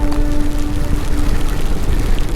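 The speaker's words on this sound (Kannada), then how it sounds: "ಮಳೆ ಜೋರಾಯಿತು ಇಲ್ಲಿ" Heavy monsoon rain pouring steadily during a motorcycle ride on a plantation road near Mudigere on the way to Kalasa, a dense, continuous wash of rain and wind noise close to the rider with no talk.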